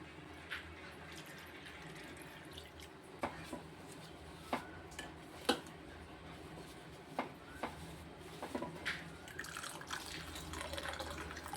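Water poured and running while rinsing curdled milk for rasmalai, a steady faint trickle with intermittent splashes and clinks of a vessel, no voices.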